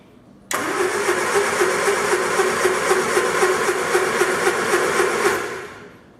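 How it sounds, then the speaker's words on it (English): A 1967 Triumph Spitfire engine cranks with spark plugs in, a rapid, rhythmic churning that starts abruptly, runs steadily for about five seconds, then winds down. "Let's try cranking it again with plugs in"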